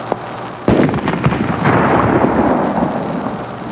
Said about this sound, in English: That explosion was brought to you by the Des Moines Bomb Squad.